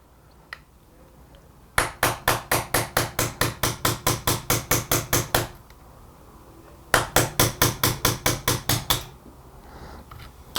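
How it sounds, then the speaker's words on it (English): Small hammer tapping a punch to drive out the retaining pin of the cartridge stop latch on a Benelli shotgun. Two bursts of quick, evenly spaced metallic taps come close and loud, about twenty, then about a dozen, with quiet between. "You'll likely need to use a little hammer to give it a tap."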